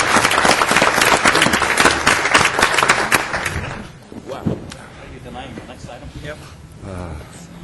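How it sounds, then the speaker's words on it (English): Loud standing ovation applause from attendees at a California Transportation Commission meeting fills the first half, then dies away as people begin talking in the room. "Will you all join me with a standing ovation to Jody's 34 years?"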